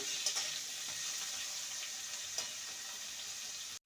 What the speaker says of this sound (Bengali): আলুটাকে প্রথমে একটু ভেজে নেব